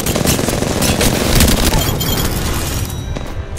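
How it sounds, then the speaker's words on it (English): Sustained, dense gunfire from an Apex Legends match: a loud, continuous barrage of rapid shots and booms with no letup, thinning slightly toward the end. "They spotted me. I'm taking shots."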